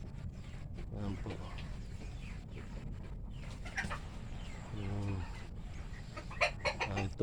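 Laying hens cluck and murmur nearby in repeated bursts, with farmyard background noise and a few sharper calls near the end.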